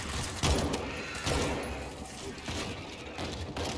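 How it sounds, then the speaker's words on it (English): Gunfire from the zombie shooter World War Z during a city mission, bursts of shots over a steady din of combat noise, with a few louder cracks standing out near the start and throughout. "I'm shooting their asses."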